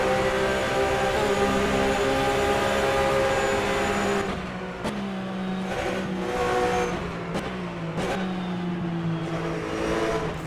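Porsche Supercup race cars roar around the Nordschleife, engines droning loud and close with a sustained high whine, then shifting into rising and falling revs and sharp gear changes as cars pass.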